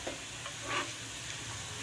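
Cumin and black pepper hitting hot oil with browned onions in a pan: a soft, steady sizzle with one brief stirring scrape in the middle.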